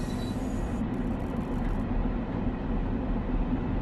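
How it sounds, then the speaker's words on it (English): A train rolls past close by in a steady, continuous low rumble with rail noise, holding an even loudness throughout without any voices. "That is another train we were hearing."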